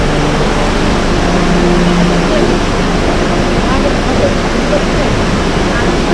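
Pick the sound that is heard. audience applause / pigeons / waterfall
waterfall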